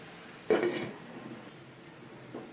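A lid is set onto a cooking pot of soya chunks kurma simmering with tomato, giving one sharp metallic clink followed by a fainter, lighter tap a couple of seconds later.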